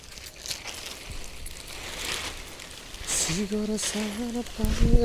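Heavy rain with strong wind during the Karam festival gives a continuous broadband wash of patter. A voice comes in over it during the second half.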